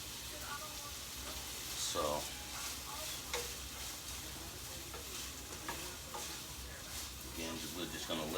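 Pancetta sizzles and fries in a pan, a soft steady crackle with occasional stirring clicks and scrapes, while a person talks intermittently over it.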